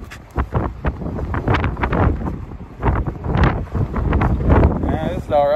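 Strong wind buffets the microphone while a jon boat is paddled upwind on open water, giving loud, gusty rumbling bursts that rise and fall throughout.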